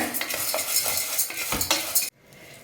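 Green gram is dry-roasted in a small cooker, with steady close scraping and rattling from the stirring spoon and grains that stops abruptly near the end.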